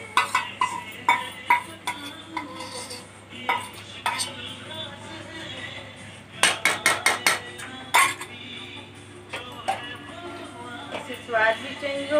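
A spoon stirs half-fried masala with cream in a pan while cooking banana kofta, giving repeated sharp metallic scrapes and clinks against the pan in uneven bursts, close and loud, with light sizzling and a voice talking between strokes.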